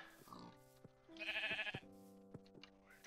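A sheep in a video game bleats a few times in quick, wavering calls, fairly faint, with some soft grunting in between.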